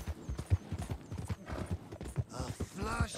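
Rapid, rhythmic hoofbeats of a galloping horse in Red Dead Redemption 2, close and steady, with a faint clatter of movement underneath.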